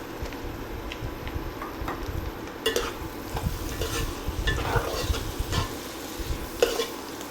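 Boiled broad beans get stirred into fried egg in a frying pan with a spatula, giving light scraping, shuffling strokes over a soft steady sizzle, close and fairly quiet, with no talking.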